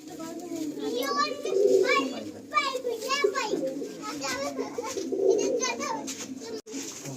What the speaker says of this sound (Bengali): অসাধারণ পায়রা, পুরো আবলুক পায়রার খাজানা রয়েছে এখানে